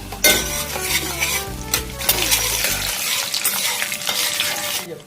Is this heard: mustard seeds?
yes